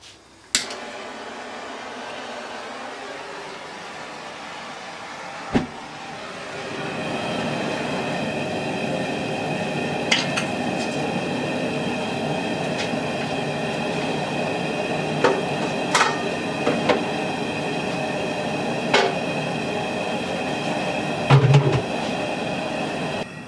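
A gas burner flame roars steadily beneath a brew kettle during an all-grain homebrew boil, a broad continuous rush with occasional clanks and knocks over it, fairly loud and close throughout.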